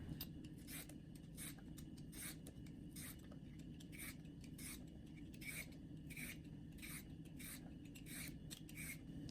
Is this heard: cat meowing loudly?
no